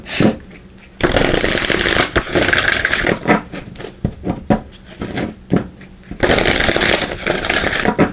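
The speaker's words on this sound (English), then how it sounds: "we are going to be pulling a card here from the Oracle of the Unicorns" Oracle of the Unicorns cards are riffled and shuffled in loud, dense bursts close by, broken by quieter pauses with light slaps and flicks as cards are pulled from the deck.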